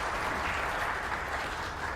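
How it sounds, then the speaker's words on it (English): A room full of people at an economic development forum gives a steady, sustained round of applause, dense and even throughout with no voices standing out. "Give a round of applause for us."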